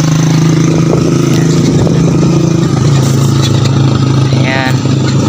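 Motorcycles and tricycles pass along a provincial road near the Tabunok Highway, their engines droning loudly and continuously up close, with clattering traffic noise and a voice talking over it.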